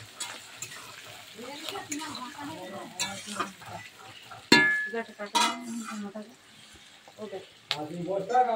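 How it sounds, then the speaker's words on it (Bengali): Chopped onions fry in oil with whole spices for a fish kalia, a steady sizzle with occasional stirring and utensil clinks running beneath a person talking throughout. "পেঁয়াজগুলো ভাজা হচ্ছে, পেঁয়াজটা লাল লাল করে ভাজা হচ্ছে।"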